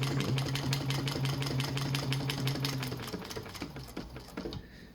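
Juki 1541 industrial sewing machine binding a sling pad with a parallel binder, a steady rapid needle chatter with motor hum running continuously, then slowing and stopping near the end.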